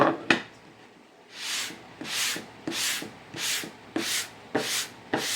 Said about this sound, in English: I'm going to sand this lightly